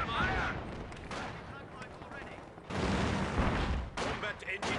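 Rolling rifle and artillery fire in a Company of Heroes 2 battle with Soviet snipers and riflemen, loud and continuous with heavier bursts swelling midway, mixed with battlefield noise and no clear talk.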